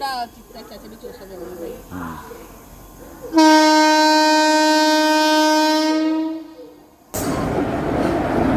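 A train horn blares loudly with a sustained harmonic tone for a few seconds, amid rumbling rail noise and background voices.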